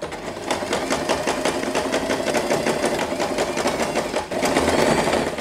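Sewing machine stitching lace onto a big fabric bow: a steady, rapid run of needle strokes continuing for several seconds with a short break near the end before resuming, close and fairly loud.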